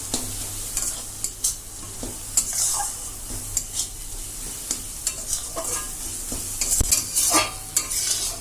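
Ground spices (turmeric, chilli, coriander, cumin) sautéing in hot oil in a pan for a Bengali snail and pointed gourd curry, a steady soft sizzle broken by repeated scraping stirs of a spatula against the pan.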